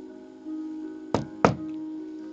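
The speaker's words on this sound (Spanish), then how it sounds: "un golpe en la puerta" Two firm knocks on a wooden door, close and distinct, about a third of a second apart, over a steady low background hum.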